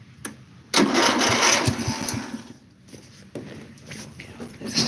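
A lawn mower engine cranks on a low battery, with a sudden loud sustained whir that sags and drops away, then weaker cranking, close up amid handling noises.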